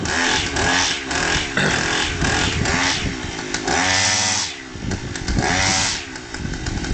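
A Stihl FS550 or Echo CLS 5800 two-stroke brushcutter engine runs loudly, revving up and down repeatedly with short dips between bursts of throttle.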